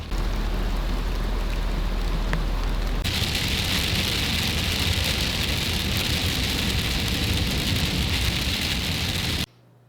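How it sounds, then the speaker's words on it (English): Hail pelts down hard in the hills, a loud, dense, continuous rattling patter that swells in intensity partway through and then cuts off abruptly near the end. "right now it's hailing pretty good"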